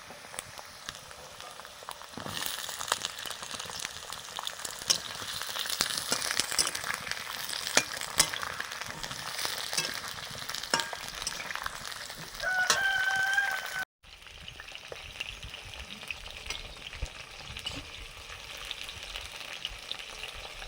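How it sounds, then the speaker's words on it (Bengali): Sweet potatoes, potatoes and drumsticks fry in hot oil with a continuous crackling sizzle and occasional stirring scrapes, while a rooster crows faintly in the background. "দু রকমের আলু, সজনে ডাঁটা ভাজা হয়ে গেছে, তুলে নিচ্ছি"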